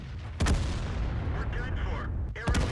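In World of Tanks, artillery shells slam into a tank with two sharp, heavy booms a couple of seconds apart over a constant rumbling game background.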